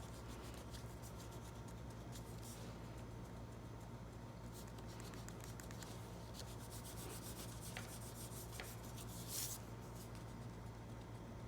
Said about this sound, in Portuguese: Vou apagar as linhas auxiliares que não me servem mais.